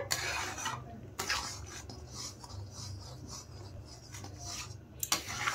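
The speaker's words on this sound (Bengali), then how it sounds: "এইভাবে কিন্তু নাড়তে থাকতে হবে টমেটো সস, নালে নিচে লেগে যাবে।" Thickening tomato sauce is stirred in a pan, with repeated rasping scrapes of the spoon against the bottom over a low steady bubbling background, close and fairly quiet.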